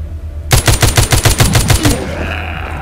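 A loud, rapid burst of about a dozen automatic gunshots rings out in The Walking Zombie 2 game, then fades into a short echoing tail.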